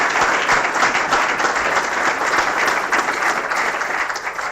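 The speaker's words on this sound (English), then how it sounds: "If we could just give a brief round of applause." A crowd claps steadily for several seconds, a dense, even wash of applause that tapers slightly toward the end.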